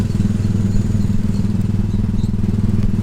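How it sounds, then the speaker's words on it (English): A Disneyland Paris theme park ride car rumbles along its guide track with a loud, continuous, low mechanical clunking and a steady engine-like hum close by. "you can see that's a clunking of the tracks, so that you stay guided"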